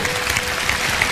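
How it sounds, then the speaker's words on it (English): Audience applause after a motivational speech, a steady broadband wash of clapping from a large crowd, fairly loud and unbroken for the whole moment. "So I thank you for your applause."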